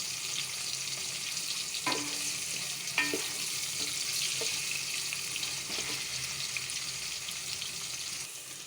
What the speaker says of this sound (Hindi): हम इसमें दरमियानी साइज़ का एक प्याज डालते हैं, पतला पतला इसको काट लिए। इसको हल्का सा हम ब्राउन कर लेंगे।